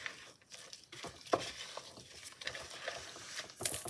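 Jello mixture being stirred in a bowl, giving soft irregular scraping and clicking strokes at close range with no voices.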